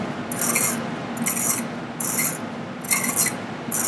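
Screws are tightened on a cheese press used for paneer, producing four rhythmic bursts of close scraping, ratcheting friction about a second apart over a low background hum.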